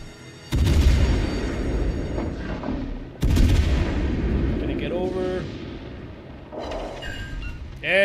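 Naval gunfire in World of Warships Legends, two heavy booming salvos with long rumbling decays followed by battle effects and a voice speaking under the game sounds.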